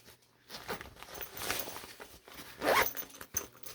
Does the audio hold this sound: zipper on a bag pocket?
yes